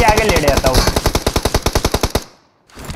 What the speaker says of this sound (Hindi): अब कोई कितना भी मेरे सामने से मार ले, बाइक पे ही लगेगी गोलियां